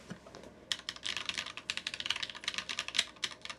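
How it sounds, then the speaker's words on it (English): Typing on a Sneakbox AVA mechanical keyboard with a brass plate and Tecsee Ice Candy switches, a quick run of close, crisp clacks at an uneven, brisk rhythm, alone without talk. "So on a brass plate like this, I can really feel it when I type, especially when even when I type softly."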